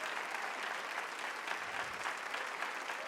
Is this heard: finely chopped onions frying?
no